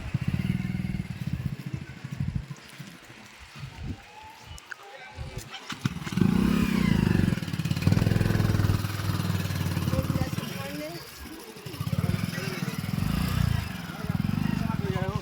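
A motorcycle engine idles and revs near a bike parking area by a roadside puncture repair spot, a rough, loud rumble that rises and falls under ongoing talk and clatter.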